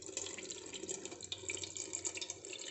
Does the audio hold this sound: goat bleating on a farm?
no